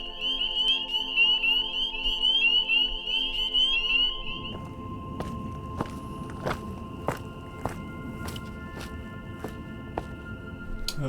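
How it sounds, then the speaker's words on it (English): Frogs croak loudly near a shelter on the Appalachian Trail, a repeated pulsing chorus that drops away partway through, leaving scattered thumps and footsteps. "I think those are frogs."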